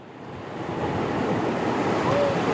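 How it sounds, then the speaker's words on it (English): Strong hurricane wind gusts from Hurricane Florence roar across the Morehead City coast, a loud, steady broadband rush building slightly and blending with surf-like wash. "we see some strong winds, strong gusts coming in right now, probably about 50 miles per hour, up to 65 at this point"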